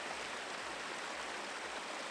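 Steady roar of a waterfall, broadband rushing water heard close and continuous with no gaps and no voices.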